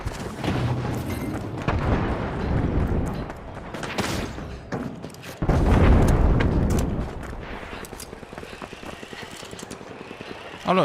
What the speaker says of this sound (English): Oh look, fireworks.